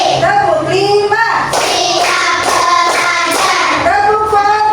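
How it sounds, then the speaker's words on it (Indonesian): Children in a classroom clap hands in rhythm while chanting a count together, their voices loud and steady over the close, repeated claps. "Tepuk 1, tepuk 2, tepuk 3, tepuk 4,"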